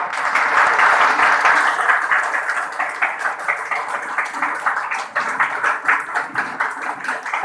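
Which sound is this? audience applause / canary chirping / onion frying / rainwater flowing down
audience applause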